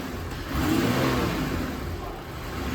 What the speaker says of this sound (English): as you hear the engine revving behind me